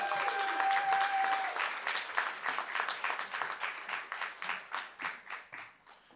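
An audience applauds a performer at a state poetry recitation competition, steady dense clapping that thins into scattered, rhythmic claps toward the end, with no talking over it.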